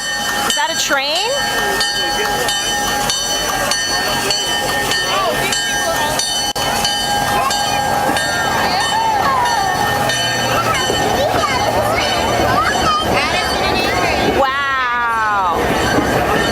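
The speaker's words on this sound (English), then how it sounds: "Is that a train?" A Thomas the Tank Engine excursion train rumbles close by with clattering wheels and a high wheel squeal, loud and continuous, while people talk excitedly over it.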